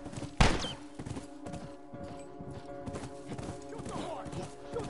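Horse hooves clip-clop at a gallop in the video game The Last of Us, a rhythmic close thudding under game effects, with one loud sharp bang near the start.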